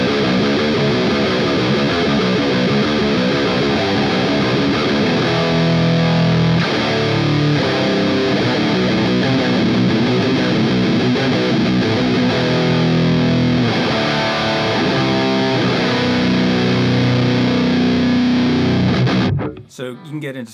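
Electric guitar played through an Orange OR15 amp with heavy, saturated distortion: dense palm-muted chugging riffs and sustained chords played continuously, loud and close, ending abruptly.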